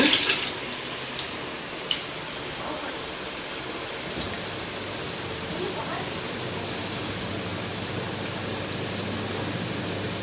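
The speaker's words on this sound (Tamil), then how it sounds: "இது வந்து போர் வாட்டர்." Bore well water gushes from a tap in a steady, hissing rush that stays at an even level throughout, with a couple of faint knocks near the start.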